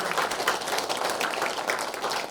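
Audience applause at a poetry and literature festival, a steady dense wash of many hands clapping that stays loud and even throughout.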